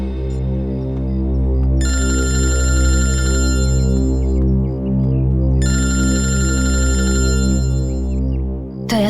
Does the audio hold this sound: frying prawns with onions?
no